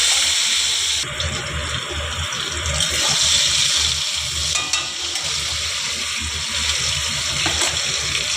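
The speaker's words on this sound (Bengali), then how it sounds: "আলুটা ভেজে নিই" Potatoes fry in a pan of hot oil with a steady, dense, hissing sizzle that holds at an even level throughout, close and alone.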